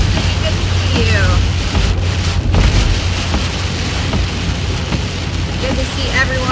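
Heavy rain pounds steadily on a vehicle driving east on Interstate 70 during a severe storm, over a low engine rumble, with a voice talking faintly through the downpour.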